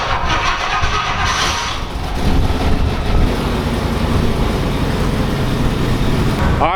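A Rolls Royce limousine engine turns over and settles into a steady mid-pitched idle as the car backs out of a garage, the sustained engine noise filling the space with no one talking.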